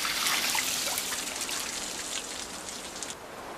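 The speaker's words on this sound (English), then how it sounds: "ice farmers repeatedly douse specially designed wood racks with water." Water splashes and trickles steadily over wooden racks used to grow ice outdoors in the cold, a continuous patter of drops and dribbles with no voices.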